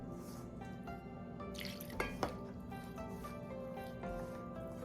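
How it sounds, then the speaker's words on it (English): Hyacinth bean cooking water trickles and drips into Akkirotti dough being mixed by hand, a faint, steady wet sound with a couple of brief clinks partway through. "I'm going to first use the water in which I cook the hyacinth beans to mix this."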